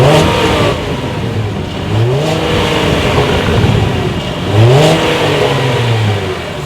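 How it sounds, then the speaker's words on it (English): A 2016 Cadillac CT6's engine revs hard through its exhaust several times, rising and falling in pitch with throaty bursts, close and loud with no talking. "Here is that exhaust clip."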